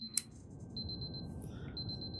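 Several alarm clocks in the puzzle game Superliminal sound as repeated high electronic beeps in short bursts. They run over a steady low background hum, with one sharp click near the start.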